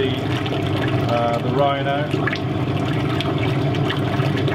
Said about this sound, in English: I'm moving the flow of the slip around just a little bit, just to make sure that we don't bombard the same part of the plaster mold